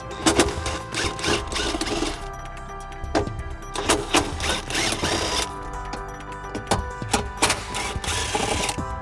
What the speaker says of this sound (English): We're going to be using a 10mm socket to remove the screws.